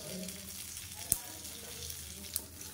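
Cashews fry in ghee with a steady, faint sizzle and hiss, broken by two sharp clinks of a utensil against the pan.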